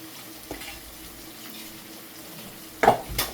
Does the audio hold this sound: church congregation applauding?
no